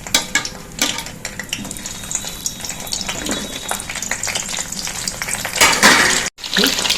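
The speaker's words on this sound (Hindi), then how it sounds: "देखिए तेल गरम है हमारा, इसमें हम बैगन डाल देंगे" Eggplant slices frying in hot oil in a pan, a steady close sizzle with scraping and stirring of a utensil against the pan, louder bursts near the end.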